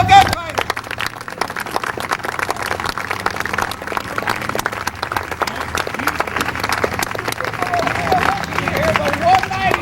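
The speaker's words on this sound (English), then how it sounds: "a big round of applause for the Boot Hill Gunfighters" Sustained applause from a large crowd for a gunfighter show at Boot Hill, dense clapping and a murmur of voices continuing steadily for several seconds.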